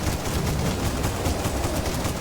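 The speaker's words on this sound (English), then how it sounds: "you manage to finish it off with the last rounds of your shotgun" Rapid, continuous gunfire in the video game Cultic, with dense, loud shotgun-style blasts running close together for the full stretch with no let-up.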